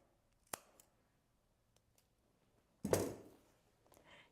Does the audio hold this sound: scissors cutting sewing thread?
yes